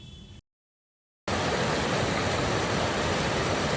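Night river flowing steadily in Jibhi, Tirthan Valley, Himachal Pradesh: a dense, constant wash of rushing water, loud and close, broken by a brief silent gap near the start.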